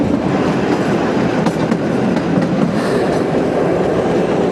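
The Kalka–Shimla toy train rolls along its mountain rails with a steady, loud rumble and faint rhythmic clatter of wheels, heard from on board with no talk.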